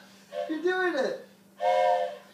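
Two blasts of a train whistle sound close and clear, a longer wavering tone followed by a shorter one after a brief pause.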